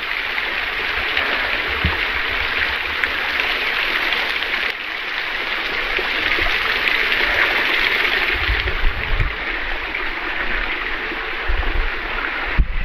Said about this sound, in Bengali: পাহাড়ের গা বেয়ে যখন উপর থেকে ঝর্ণার মিষ্টি শীতল পানিগুলো প্রবাহিত হয়